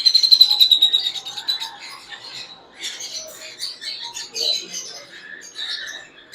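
Pet parrot chicks and their breeding pair chirp close by, starting with a quick run of high rhythmic cheeps that gives way to softer, scattered chatter over the rest.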